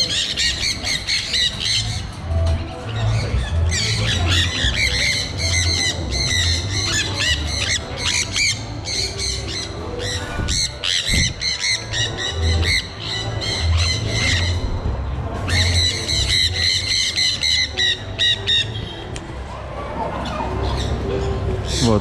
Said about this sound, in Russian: Самое прикольное здесь, конечно, попугайчики.